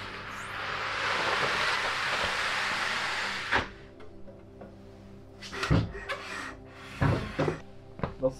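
Wall panels being fitted: a long hiss of sliding board, then a series of loud wooden knocks and thumps as a panel is tapped into place, close and uneven in rhythm.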